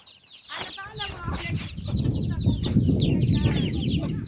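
Chickens and chicks cluck and squawk in quick bursts at a sheep farm pen, close and lively over a rising background murmur that includes some human voices.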